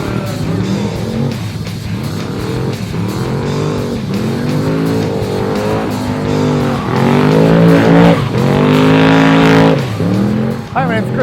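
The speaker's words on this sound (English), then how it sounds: "Got my 1947 Jeep Willys CJ-2A." A propane-powered, turbocharged LS-swapped 1947 Jeep Willys CJ-2A drives at an LS car event, its engine droning loudly and steadily, with rising and falling harmonic sweeps as it revs through gears and builds toward a louder, sharper pull.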